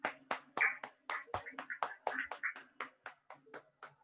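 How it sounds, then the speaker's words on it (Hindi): A yoga class claps for themselves, roughly sixteen sharp, irregular hand claps in quick succession, close and fairly loud, with no talking over them. "सब अपने आप के लिए तालियां बजाइए"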